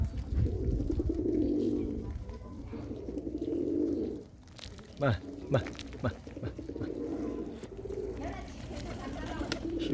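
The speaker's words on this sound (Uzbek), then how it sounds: "Ichkarida ham bor yana kaptarlar." Pigeons in a coop coo in low, soft repeated phrases, close by, with someone talking over them throughout.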